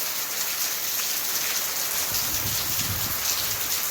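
Heavy rain pours steadily over Bathinda, Punjab, a dense, continuous hiss close by, with a few low rumbling thuds partway through.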